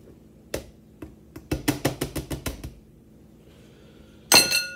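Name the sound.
sifting flour, baking powder and salt with a sifter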